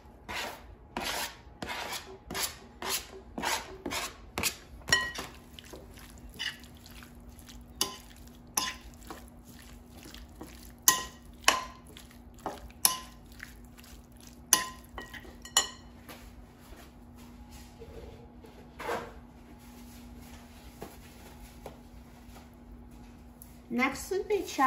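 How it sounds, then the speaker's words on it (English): A utensil stirs chopped cilantro into canned tuna ceviche in a dish, making a run of close, quiet scraping and clinking strokes in an irregular rhythm with short pauses between them. "let's add cilantro to the ceviche"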